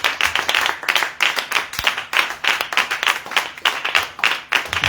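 A church congregation at a Thursday evening service in Lomé, Togo, claps loudly in a steady rhythmic beat, with some cheering mixed in, filling the whole stretch without spoken words.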